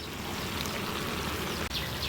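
A ground masala paste, blended smooth with water, pours steadily into a pot of country chicken curry, giving a continuous close liquid trickle and splash with no voices.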